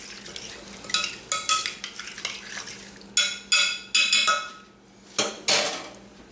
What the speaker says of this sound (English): And now we're just going to mix it all together.